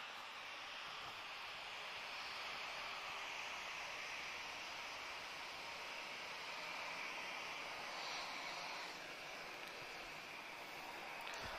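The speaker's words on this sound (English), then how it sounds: "Azul is just turning onto the runway now" An Azul airliner turns onto the runway at Lisbon Airport, its engines giving a steady, distant broadband roar that holds level throughout without change.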